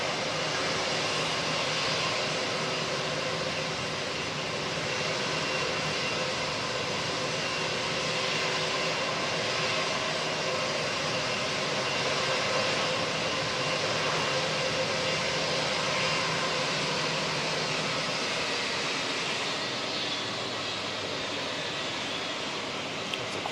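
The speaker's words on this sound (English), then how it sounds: "So Qantas 126 back to Brisbane. It's the A330." A Qantas Airbus A330 jet in Pride livery departs Auckland Airport for Brisbane, a sustained wide engine roar holding steady and loud throughout before easing slightly near the end, with no voices.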